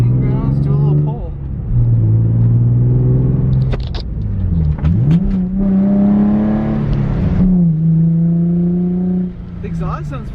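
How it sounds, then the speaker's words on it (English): A Nissan 350Z with a 6-speed manual rumbles and revs loudly up close, the exhaust note rising and falling through several throttle blips with a deep, throaty drone. "The exhaust sounds pretty nice too."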